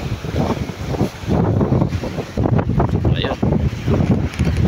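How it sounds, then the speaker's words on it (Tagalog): Strong wind at sea buffets the microphone on a large fishing boat out after yellowfin tuna, a loud, gusty, continuous rumble and roar with uneven surges, close and dominant throughout. "narinig nyo ang ingay ng hangin mga idol, ang lakas"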